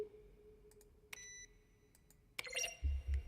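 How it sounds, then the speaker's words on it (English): Button presses from the game The Stanley Parable, each blending a keyboard keystroke with a synthesized tone, come as a few sparse clicks and bright beeps, quiet and isolated, with a louder electronic chirp near the end. "Each sound is a mix of a keyboard stroke and a synthesized tone."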